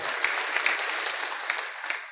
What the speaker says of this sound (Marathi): एकदा संस्थांसाठी जोरदार टाळ्या वाजा।